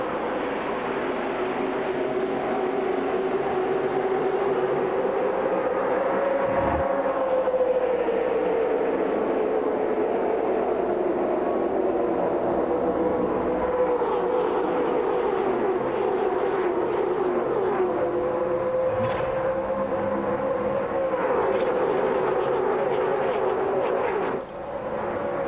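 A pack of NASCAR stock cars roars flat out at Daytona during the 2007 Pepsi 400, a loud, continuous engine drone with rising and falling pitch as the field passes.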